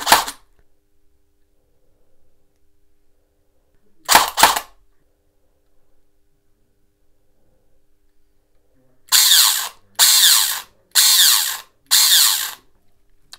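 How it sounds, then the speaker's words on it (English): Airsoft AEG gearbox with the motor height set too low, so the pinion gear fails to mesh with the bevel gear: a loud, harsh grinding whir in two brief isolated bursts, then four rapid trigger bursts in a row. "that's where the pinion gear and the motor are not meshing with the bevel gear"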